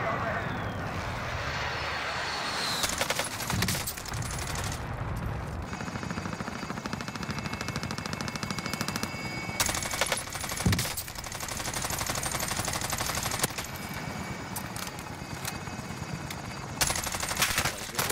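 Bursts of automatic and single-shot gunfire in a Call of Duty Cold War Warzone match, rapid crackling volleys coming in clusters over about eighteen seconds, with players talking over the shooting.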